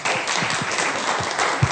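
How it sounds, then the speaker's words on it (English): Applause from a theology public lecture audience gathered in a church, a dense steady wash of many hands clapping close and loud across the whole stretch, with faint voices mixed in. "And I think that applause says it all, John."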